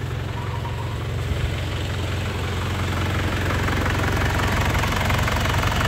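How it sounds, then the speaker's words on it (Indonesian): A 2002 Isuzu Panther diesel engine idles just after starting, with a low, steady knocking rumble close up and no talk over it. "Ini suaranya mesin lur."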